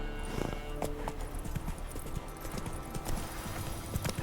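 Hooves clip-clop at a steady trot as a horse is ridden in The Witcher 3, many quick even beats over a low rumbling game ambience, moderately close but fairly quiet.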